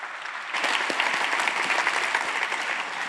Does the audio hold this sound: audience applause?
yes